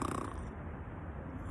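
A person imitates snoring with a low, rough, rattling breath that runs continuously and faintly up close, with no talk over it.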